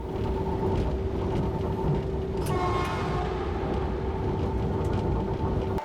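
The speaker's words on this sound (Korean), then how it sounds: "여러 차례 무전이 오가고 드디어 기차가 출발합니다." A passenger train departing Suncheon station toward Yeocheon gives a steady, loud mechanical rumble with a sustained drone from the engine. Brief clanks sound near the middle, and no voices are heard.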